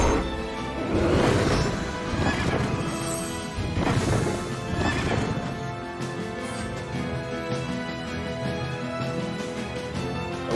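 Horses whinny twice in a fantasy role-playing game battle, long shrill neighs rising over hoof clip-clops and impact sounds, followed by a sustained musical score carrying on alone.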